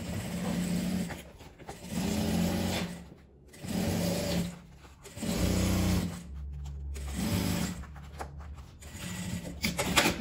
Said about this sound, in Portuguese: para eu continuar costurando na lateral